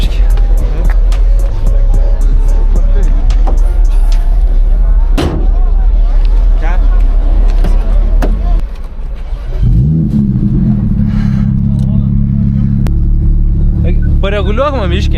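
A BMW Alpina car is moved a short distance at a car event, its engine rumbling and revving under loud voices nearby, then settling into a steady low drone near the end.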